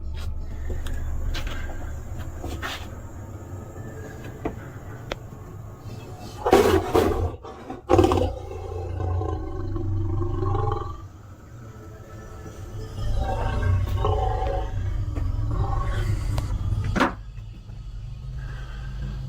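A lion roaring near a cabin in the wild, with deep, loud, rumbling roars and grunts that come in bursts. Between them are sharp knocks and low background rumble.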